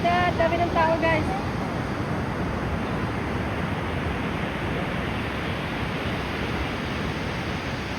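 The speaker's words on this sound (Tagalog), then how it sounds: "So, dito medyo Mataas ang alon." Ocean waves wash continuously at Bondi Beach, a broad steady surf roar close by, with a brief voice near the start.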